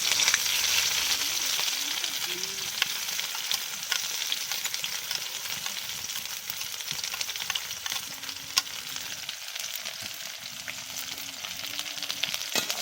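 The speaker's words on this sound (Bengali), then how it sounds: "এইবার আমি এতে মাঝারি সাইজের একটা পেঁয়াজ কুচি দিয়ে দিচ্ছি" Chopped onion sizzles in hot oil with dried red chilli, bay leaf and cumin, a continuous close frying crackle with occasional stirring scrapes and light clinks.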